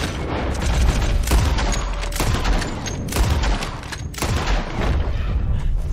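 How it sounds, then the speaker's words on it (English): Rapid gunshots fired at a boar in Red Dead Redemption 2, a loud close volley of cracks and booms in quick succession over several seconds, echoing against a dense rumbling background. "I shot it like 2 times because one of the shots went into the tree"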